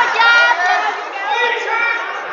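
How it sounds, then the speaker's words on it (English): An indoor crowd murmurs and chatters at a high school wrestling meet in Ram Gymnasium, a dense, steady wash of many voices with a few rising shouts, filling the space at moderate loudness. "Nice crowd here tonight at Ram Gymnasium."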